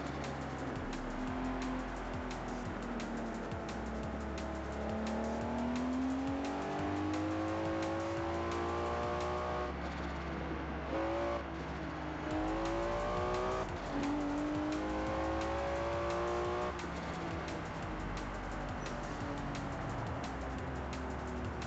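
A car accelerates hard through city streets, its engine revving up again and again in loud, rising surges that stay close and continuous, with no talking.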